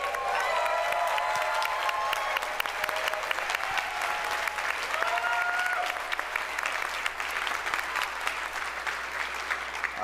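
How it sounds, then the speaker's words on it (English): A large conference audience of roughly 1,500 people gives sustained applause, dense clapping with a few cheers and voices scattered through the crowd. "can you guys stand up and give them a round of applause?"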